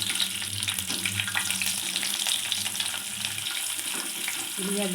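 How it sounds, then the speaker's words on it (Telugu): Steady sizzling and crackling of onion frying in hot oil with cumin for tempering, close and continuous, with faint background sounds. "ఉల్లిగడ్డ వేగితేనే తాలింపులో బాగుంటుంది"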